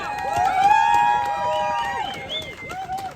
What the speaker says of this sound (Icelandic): klappum fyrir þeim